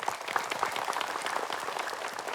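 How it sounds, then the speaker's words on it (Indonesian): Faint, steady applause from a small audience at an Indonesian religious healing session, a soft patter of hands with no talk over it. "Ibu Gian, tepuk tangan nih, semua boleh?"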